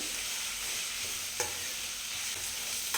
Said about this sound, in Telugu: సాల్ట్ వేసుకున్న తర్వాత బాగా కలుపుకోవాలి